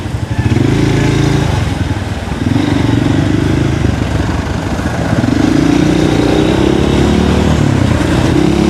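Motorcycle engines rumble and buzz nearby in busy traffic on a road from Malabon to Bulacan, revving and passing one after another with a constant loud road noise.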